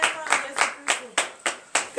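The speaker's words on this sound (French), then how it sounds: "Donnons encore acclamation à notre Seigneur Jésus-Christ" A congregation at a Saturday morning prayer service in Comè, Benin, claps in acclamation, about seven sharp, evenly spaced rhythmic claps close by, with faint background voices.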